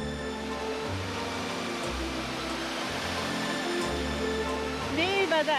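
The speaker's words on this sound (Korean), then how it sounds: "그 길에서 만나게 된 비룡 폭포." Biryong Falls on Seoraksan, a mountain waterfall, produces a constant dense rush of falling water throughout, with background music underneath and a voice briefly rising at the end.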